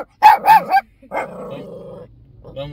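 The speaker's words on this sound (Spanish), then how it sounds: "A ver, hable doña Rosa, porque a usted le ladra." A small white dog outside a house barks three quick sharp times, close by, then lets out a longer low growl that fades to a brief whimper.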